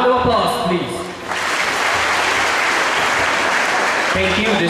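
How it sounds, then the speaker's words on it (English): Applause at a high school graduation ceremony, a crowd clapping loudly and steadily for several seconds after a brief voice over a microphone at the start. "Shall we give a big round of applause, please?"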